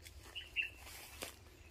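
A sooty-headed bulbul gives a couple of faint, brief chirps at a distance against quiet background noise.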